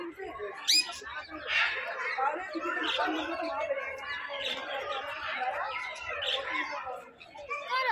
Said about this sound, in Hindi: ये पक्षी विहार है और बहुत सारे national international birds, love birds यहाँ देखने को मिलेंगे